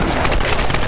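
Rapid gunfire from Tomb Raider: Definitive Edition, a dense fusillade of overlapping shots crackling loudly and continuously through the whole second with no talk.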